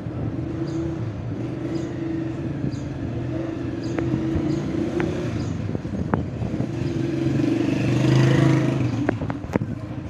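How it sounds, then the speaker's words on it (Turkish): A motorcycle passes by outside. Its engine hum swells gradually and peaks near the end under a steady indoor background, with faint clicks scattered throughout. "Gördüğünüz gibi arkadaşlar, bir motor yüzünden tekrardan kesintiye uğradı yayın"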